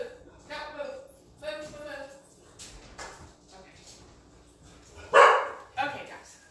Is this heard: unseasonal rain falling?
no